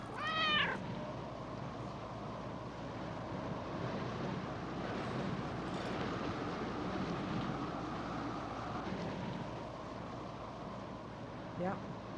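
A cat meowing in the video game Burglin' Gnomes, a short wavering meow at the start and another faint one near the end over a low ambient game background.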